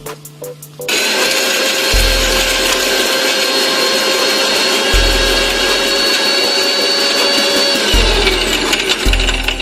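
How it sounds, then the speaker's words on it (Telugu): After a brief quiet rattle, an electric mixer grinder loaded with garlic and dry coconut roars on, its loud motor whine running continuously with a low, pulsing churn. "ఇలా మిక్సీ కొట్టుకోవాలి."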